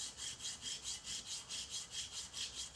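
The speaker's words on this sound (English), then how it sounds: "This is 120 grit sandpaper." A knife handle is rubbed back and forth on 120 grit sandpaper in about ten even, rhythmic strokes, a soft close hiss with no talk.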